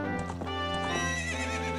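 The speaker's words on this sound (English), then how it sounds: "We got a horse!" A horse in The Legend of Zelda: Ocarina of Time lets out a loud, close whinny with a few hoof clip-clops, set against steady game music.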